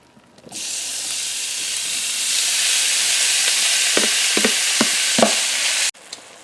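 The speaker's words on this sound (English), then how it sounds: "then you want to add your beef in, brown it" Beef dropped into a hot stir fry pan for browning, a sudden loud sizzle that hisses steadily for several seconds with a few scraping stirs near the end before it cuts off abruptly.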